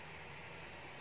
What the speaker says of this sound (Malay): kita try dia punya timer punya bunyi